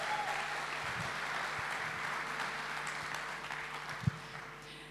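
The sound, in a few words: audience applause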